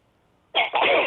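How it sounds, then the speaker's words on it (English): A person sneezes once, a sudden loud burst after a short quiet pause, followed by a brief breathy tail, with no talking over it. "After I sneeze."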